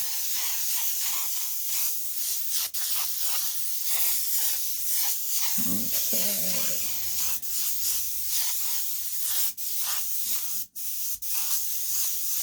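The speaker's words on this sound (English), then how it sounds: "I'm looking for texture and not a consistent spray pattern." Spray paint hissing onto canvas to build a rust texture, a long run of loud continuous aerosol bursts with brief gaps, close by, and a single short spoken word partway through.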